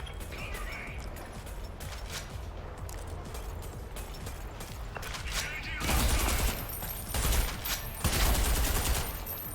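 An enemy in the video game Selaco firing a weapon, rapid bursts of gunfire that grow louder and denser in the second half, with heavy sustained volleys near the end over the game's background noise.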